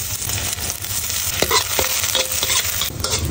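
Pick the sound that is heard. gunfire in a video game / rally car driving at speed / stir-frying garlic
stir-frying garlic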